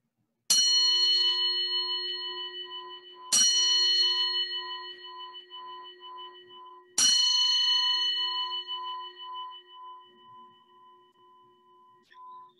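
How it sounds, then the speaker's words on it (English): A church bell tolls three times before a service, each strike ringing out loud and clear and then decaying slowly into a long shimmering hum before the next, with the last toll fading away alone. "Our service will begin after the ringing of the bell."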